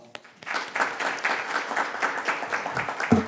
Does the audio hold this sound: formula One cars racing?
no